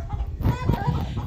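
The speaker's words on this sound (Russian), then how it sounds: "Курочки мои." Chickens cluck softly in short bursts close by, with a low murmur of farmyard noise underneath, in a cattle barn.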